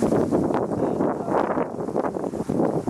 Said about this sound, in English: Yeah, this wind blowing.